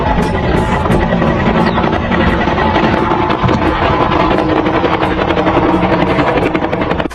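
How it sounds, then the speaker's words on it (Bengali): A homemade helicopter contraption running, a loud, steady rotor chop and engine drone held close throughout, with no speech. "এবারে হেলিকপ্টারটি দেখুন"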